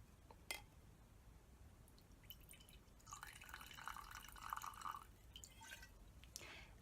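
Jameson Irish whiskey pours into a glass, a soft, faint liquid trickle lasting a couple of seconds between light drips, with no talking.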